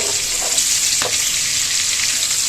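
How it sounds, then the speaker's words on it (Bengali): Prawns lightly frying in a pan make a steady bright sizzle, loud and close, with one brief clink partway through. "মাছগুলোকে বেশি করে ডিপ ফ্রাই করবো না জাস্ট একটু হালকা এপিড ওপিড ভেজে নেব"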